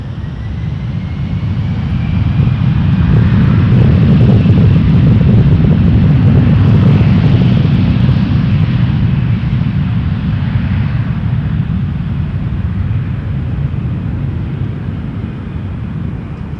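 An Air Canada Airbus A321 departs Toronto Pearson, its jet engines a loud, steady roar with broad low rumble that swells and holds for the full length, nearby and without any voices.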